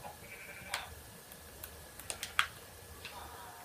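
Sheep bleats from a video game, a few short calls spread across the moment, moderately loud over a quiet background with faint clicks, without talking.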